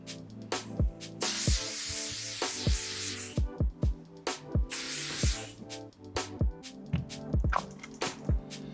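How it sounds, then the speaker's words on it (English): Bursts of hairspray hissing onto hair during a crochet braid install, two long sprays among soft clicks and taps, with quiet music in the background. "try using holding spray"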